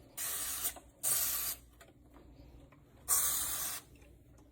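Three short hissing bursts of Dawn Powerwash dish soap sprayed onto the grate of a Typhur Dome 2 air fryer, each lasting under a second, close and fairly loud with quiet gaps between.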